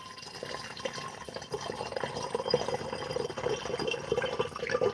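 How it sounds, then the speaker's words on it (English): Water poured to fill a container for homemade strawberry wine or mead, a soft, steady trickle and splash with small gurgles and drips building gradually, fairly quiet and close, with no speech. "We're just going to go ahead and fill that up with a bit of water."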